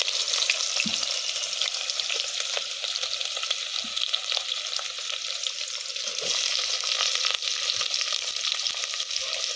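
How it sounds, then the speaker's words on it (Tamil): Onions sauté in oil in a pan for cowpea pulao, giving a continuous bright sizzle with occasional soft stirring taps, close and steady throughout. "வெங்காயம் வந்து பொன்னிறமாக வர்ற வரையும் வதக்கணும்"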